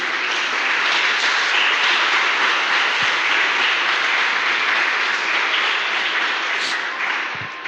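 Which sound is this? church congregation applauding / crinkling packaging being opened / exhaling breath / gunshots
church congregation applauding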